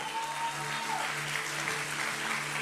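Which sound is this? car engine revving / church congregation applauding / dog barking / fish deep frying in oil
church congregation applauding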